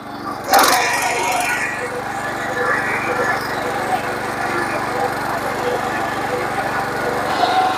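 A power tiller engine runs in second gear with a steady, buzzy drone. A sharp crack comes near the start, and a person talks over the engine noise throughout.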